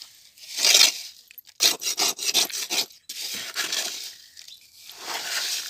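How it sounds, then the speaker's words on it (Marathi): Boondi being stirred and mixed into sugar syrup, giving a series of close, wet, scraping and rubbing strokes in irregular rhythm, fairly loud with brief pauses. "पाकात आईने बुंदी टाकली आणि त्याला मिक्स करून घेते आई"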